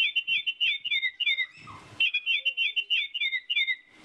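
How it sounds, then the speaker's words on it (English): A Baltimore oriole sings a series of clear, rapid whistled notes in steady phrases, briefly interrupted by a short rustling noise midway. "here's a bird called the Baltimore Oriole"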